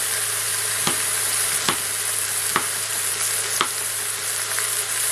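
Pork pieces for colombo de porc sizzle steadily as they brown in a pan, a loud, even frying hiss with a few faint regular clicks; no speech.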